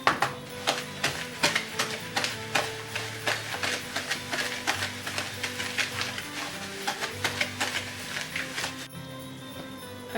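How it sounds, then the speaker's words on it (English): Eggnog whisked by hand in a bowl: a steady, fast run of bright clicking wire-whisk strokes close by, continuing evenly for about nine seconds before stopping abruptly. "the strong arm man shall take over from here and whisk it for me"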